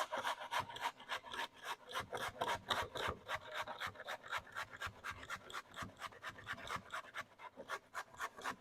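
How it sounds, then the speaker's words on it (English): Zucchini rasped against a cheese grater in a home kitchen while preparing pupusas, giving a steady run of quick, close scraping strokes in an even rhythm. "So definitely good to have a cheese grater for this"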